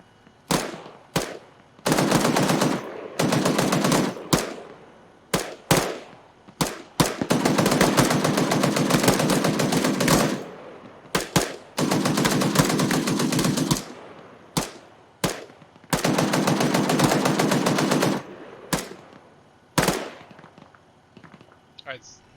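Automatic and single-shot gunfire from the ArmA 3 military video game, with repeated sharp cracks and long sustained bursts of rapid fire separated by brief pauses. The shooting is loud and close, with some voices underneath.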